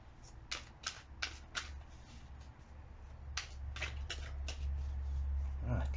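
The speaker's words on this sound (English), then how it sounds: "A couple more shuffles." Tarot cards shuffled in quick riffling bursts, two clusters of several rapid riffles separated by a pause, close and fairly soft over a low steady hum.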